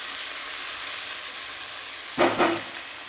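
Chopped onion and tomato fry in hot oil with a steady, even sizzle, broken near the end by a short burst of stirring clatter.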